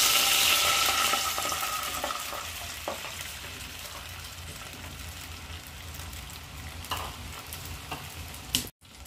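Milk poured into hot ghee in a pan for hibiscus halwa sizzles loudly at first, then settles into a steady, softer frying hiss with faint stirring ticks and a brief clatter near the end.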